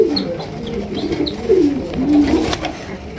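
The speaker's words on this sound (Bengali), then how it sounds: "এটা হচ্ছে তোর মাদি কবুতর।" A female pigeon of a Bangladeshi fancy breed coos close by in low, rolling, repeated calls, with faint chirps and light background noise around it and no talk.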